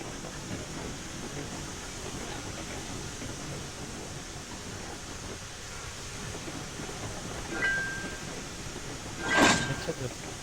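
Freight cars roll along the track in the train simulation game Railroads Online, a faint steady rumble and hiss broken by one sharp metallic clank of cars bumping together near the end.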